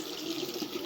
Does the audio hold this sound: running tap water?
yes